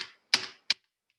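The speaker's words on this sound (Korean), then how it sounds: "방향 키를 통해서 이동합니다" Two crisp key presses on a computer keyboard's arrow keys, used to move between spreadsheet cells, snap out close and clear with a short gap between them, then silence.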